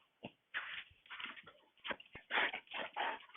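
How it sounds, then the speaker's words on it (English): A dog outdoors giving short whimpers and yips on command, a run of brief, close vocal bursts in uneven rhythm, heard through a headset microphone. "The dog is going to bark."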